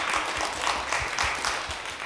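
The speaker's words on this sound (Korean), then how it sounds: "일단 하나님께 한번 감사의 박수를 한번 올려드리겠습니다" A church congregation applauds during a Sunday worship service, a faint, steady patter of many hands clapping at a distance with a few louder claps on top.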